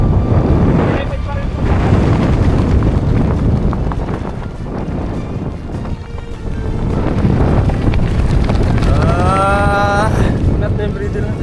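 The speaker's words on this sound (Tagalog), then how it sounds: "Rinig nyo yung hangin?" Strong wind roars and buffets around an anchored boat, a loud, gusting rush filling the whole stretch, with a brief drop midway and a voice speaking faintly within the noise.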